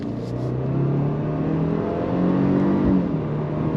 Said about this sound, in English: I get like a little bit of a pop out of the exhaust out back